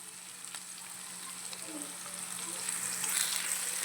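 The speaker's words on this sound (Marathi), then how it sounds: "सर्व जिन्नस आहे ते छान असे भाजून घ्यायचे आपल्याला" Spring onion, cauliflower florets and peas frying in a pan for a cauliflower-pea masala rice, a steady close sizzle that grows a little louder toward the end, with no voices.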